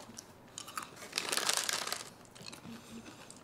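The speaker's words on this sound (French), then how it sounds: "quand vous croquez dedans, c'est enrobé de chocolat avec du beurre de cacahuète" Crunchy bites into chocolate-coated peanut butter candy make a few faint, close crackling crunches and crinkles, building to a denser burst in the middle and then easing off, with no talking.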